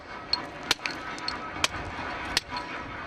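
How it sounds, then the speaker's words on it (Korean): A hammer strikes a steel chisel driven into hard marble at a Makrana marble quarry in India, a few sharp metallic clinks at irregular intervals over a steady background roar. "단단한 대리석에 정을 꽂고 망치로 수십 번 내리치는 과정을 몇 시간씩 반복해야 한다"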